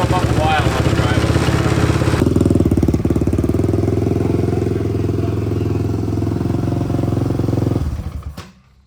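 A KTM 525cc cross kart engine warms up: a steady, loud, throbbing idle kicks in after a brief noisy start and runs for several seconds before dying away.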